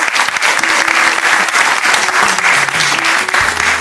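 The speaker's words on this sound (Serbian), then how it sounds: "molim vas jedan veliki aplauz za moje sjajne dame" Studio audience on a TV variety talk show applauds loudly and continuously, a dense steady wash of clapping with a few faint tonal notes underneath.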